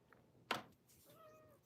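A house cat gives one short, clear meow, close and quiet, followed by a soft, faint rising call, in an otherwise hushed room.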